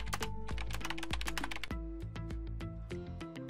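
Quick, close clicks of a computer keyboard as a command is typed, in a brief dense run of keystrokes with no voice.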